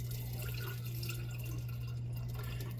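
Liquid pepper mash for a homemade Tabasco-style hot sauce trickles and drips through a mesh sieve into a sink, a soft, continuous, faint splashing over a steady low hum.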